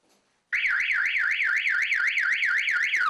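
A burglar alarm installed on a farmstead wails loudly and steadily, its rising and falling siren tone cycling rapidly after a brief quiet start, with no voices.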